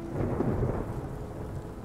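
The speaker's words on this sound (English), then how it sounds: "Yeah, it's a long storm." Thunderstorm in the Skyrim VR game, a continuous deep rumble of thunder with steady rain beneath it, loud and close throughout with no talk.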